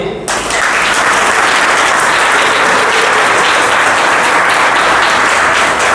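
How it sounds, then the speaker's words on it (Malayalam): A large crowd claps hard on request at a lively gathering, a loud, sustained roar of applause that sets in after a brief moment and holds steady for several seconds. "ഇനി ഒന്ന് നന്നായിട്ടൊന്ന് കൈയടിക്കേ"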